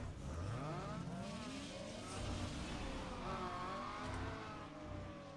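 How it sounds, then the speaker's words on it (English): Car engine over-revving in second gear, a continuous loud rising and falling motor whine with harmonic sweeps, close by and steady throughout with no voices. "I don't know why second gear over revved."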